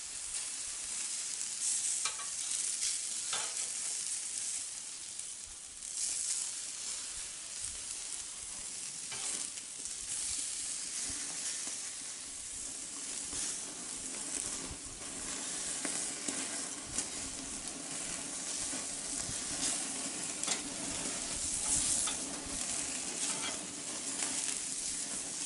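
Bacon-wrapped stuffed quail sizzling on a grill, a steady broad hiss and crackle that runs evenly and fairly close for the whole stretch, with no talking.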